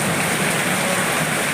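Heavy rain pours down all around in a dense, unbroken hiss, loud and steady from start to finish with no voices.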